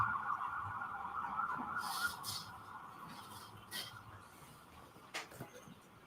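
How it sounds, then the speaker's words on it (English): Emergency vehicle sirens pass outside a courtroom during a retrial, a faint steady wail held in the background with a few soft knocks and rustles nearby. "wait until the sirens pass"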